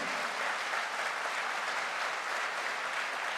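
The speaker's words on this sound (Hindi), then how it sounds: "जबरदस्त तालियां बजा दीजिए, हाथ ऊपर करके तालियां बजा दीजिए" An audience at a diamond promotion celebration claps loudly and steadily, a dense, even wash of applause that holds for a few seconds with no voices over it.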